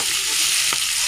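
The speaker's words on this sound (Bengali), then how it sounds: "আমি প্রথমে পেঁয়াজটা এইভাবে তেলের দিয়ে দিয়েছি" Onion frying in hot oil gives a loud, steady hiss for about a second with one brief stirring scrape partway through and no talking.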